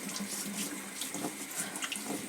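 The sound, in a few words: water draining in sink while rinsing tumbled rocks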